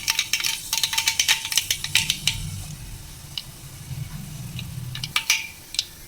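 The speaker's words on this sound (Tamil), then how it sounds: "எண்ணெய் சூடானதும் கடுகு உளுந்து பருப்பு போட்டுக்கலாம்." Mustard seeds and urad dal crackle and pop in hot sesame oil in a kadai, a dense burst of sharp spattering clicks with a soft sizzle underneath, fairly close and continuous, no voices.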